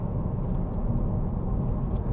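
A 2017 Ford Focus 1.5 TDCi Titanium X drives along, a steady low cabin rumble of engine and road noise, even and continuous with no voices.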